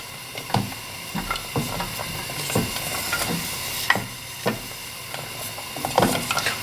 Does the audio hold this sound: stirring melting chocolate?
yes